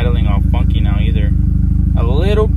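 A straight-piped VW GTI idles with a steady, loud, throbbing exhaust drone that runs without a break, while someone talks over it.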